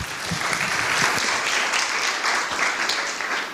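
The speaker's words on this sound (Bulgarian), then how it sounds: "Аплодисменти!" Audience applause at a Wi-Fi security talk in Varna, a dense, steady patter of many hands clapping at moderate volume, with a few sharper individual claps standing out, lasting the whole few seconds.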